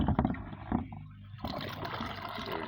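An aquaponics bucket siphon driven by a compressed-air pump makes a soft gurgling, gobbling flow of water. A few bubbling pulses come first, then a continuous watery wash, faint and close.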